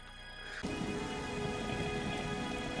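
Heavy rain from an animated storm episode starts abruptly after a short quiet lead-in and becomes a dense, steady hiss of pouring water, moderately loud and continuous, with no talking.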